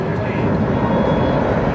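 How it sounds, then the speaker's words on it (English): A C-17 Globemaster III's jet engines hold a loud, steady roar, with a voice talking over it. "And as we listen to these engines, I was talking about how quiet they are."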